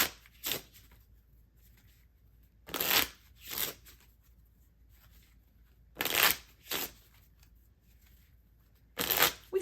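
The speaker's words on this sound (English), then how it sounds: "Going back in, and we're shuffling." A deck of playing cards being shuffled in several separate bursts of riffling, each a second or less, spaced apart by quiet pauses in an otherwise still room.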